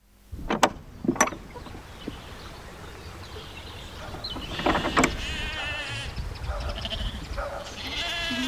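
Sheep bleat in a sheepfold on a livestock farm, a couple of loud, close bleats early on followed by more calls from around the flock over a steady barn background.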